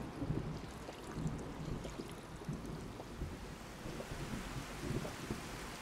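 A rainy storm in Fallout 4 with low, rolling rumbles of thunder and steady rain, fairly faint and continuous.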